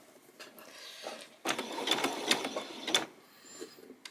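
A sewing machine back stitches a doll's peasant top, starting with a few soft clicks and then running in a rapid, close mechanical burst before slowing and stopping.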